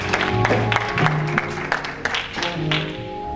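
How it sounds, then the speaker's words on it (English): A church congregation claps in praise to the Lord during a service led by a pastor. The hand claps are loose and continuous at moderate loudness, over sustained tonal sounds. "give the Lord a hand clap of praise"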